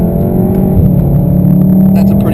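A 2015 Volkswagen Golf R Mk7 engine drones loudly at full throttle through a sharp corner, a steady low rumble heard from inside the cabin with someone talking over it.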